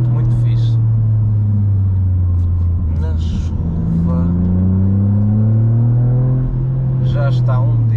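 A Toyota GR Yaris three-cylinder engine pulling hard under acceleration inside the car, a loud steady droning rumble rising in pitch through the gears, with people talking over it.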